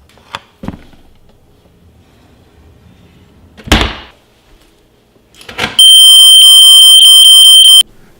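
A loud portable personal alarm, triggered by light, goes off inside a drawer: a few knocks and a drawer sliding open, then a piercing, steady high-pitched siren blares for about two seconds before stopping.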